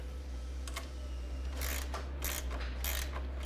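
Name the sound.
9mm wrench loosening bolts on a Sleepsafe II bed panel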